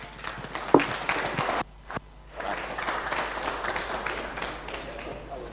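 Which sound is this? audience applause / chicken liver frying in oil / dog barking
audience applause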